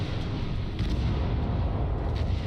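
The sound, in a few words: explosion in video game Crossfire Legion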